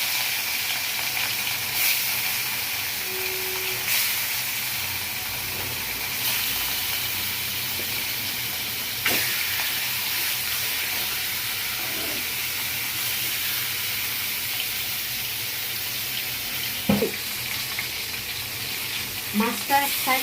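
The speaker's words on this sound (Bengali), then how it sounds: "এখন আমি রুই মাছে হলুদ দিয়ে লবণ দিয়ে তেলে ভাজবো।" Rohu fish pieces coated in turmeric and salt fry in hot soybean oil in a kadai, a steady close sizzle and hiss running throughout, with occasional soft clinks and brief knocks.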